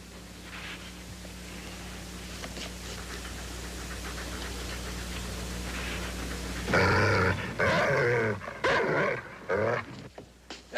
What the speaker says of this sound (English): That dog's vicious, Judge.